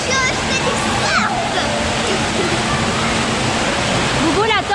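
Churning, rushing water of a wave pool at a campsite water park as the waves start up, a steady loud wash with splashes, and a voice talking over it.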